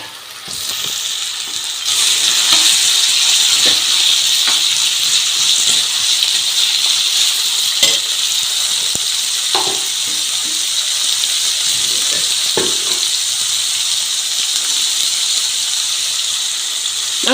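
Peas, beans and carrots cook in a pan of water for semiya upma, producing a loud, steady hiss and bubbling rush with occasional soft clinks of a utensil, close up.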